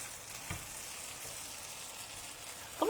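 Vegetarian chicken sizzles in a frying pan with a soft, even hiss, one small pop near the start and a brief clatter at the end, quiet and without talk.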